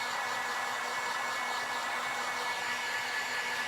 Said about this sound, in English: The heat gun's probably loud.